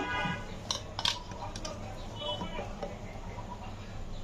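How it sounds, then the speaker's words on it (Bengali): Beef trotters go into a pressure cooker with a few sharp clinks and knocks of bone against metal, brief and fairly faint, with a voice speaking quietly. "প্রেশার কুকারে পায়াগুলো দিয়ে দিলাম"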